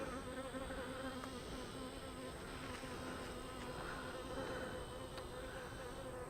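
Honey bees in late summer buzzing steadily around an open beehive, a continuous faint drone of many insects close by, with no voices.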